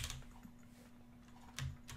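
Someone types on a computer keyboard, with scattered soft key clicks and a couple of louder presses over a low steady hum, close by and fairly quiet.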